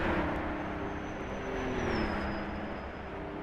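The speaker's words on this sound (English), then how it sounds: "That rumble of that Aston Martin DB3S." An Aston Martin DB3S races in a video game at the Tourist Trophy Dundrod circuit, its engine giving a steady, loud low rumble with a faint high whine gliding down partway through.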